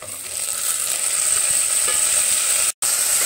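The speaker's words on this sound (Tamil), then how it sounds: "தக்காளி வதங்கணும்." Onion and tomatoes sautéing in a pan, a bright, steady sizzling hiss that cuts out briefly near the end before resuming.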